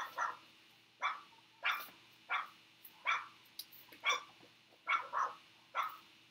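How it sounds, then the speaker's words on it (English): Neighborhood dogs bark outside, about ten evenly spaced barks at a moderate distance, fairly faint against a quiet background. "The dogs are going to be barking."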